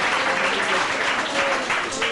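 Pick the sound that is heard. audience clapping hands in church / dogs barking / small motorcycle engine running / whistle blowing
audience clapping hands in church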